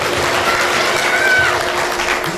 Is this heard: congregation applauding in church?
yes